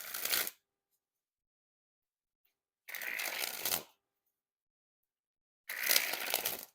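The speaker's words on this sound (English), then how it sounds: "So super smooth springs there." Orbit Mac Lethal playing cards sprung from hand to hand in three separate smooth riffling bursts, each about a second long, close and crisp with silence between.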